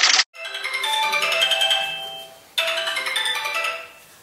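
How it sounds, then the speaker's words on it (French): A phone ringtone plays loud and close during an outgoing call, a bright melodic ring that repeats twice with a short pause between rings. "Du coup, j'ai appelé Christophe."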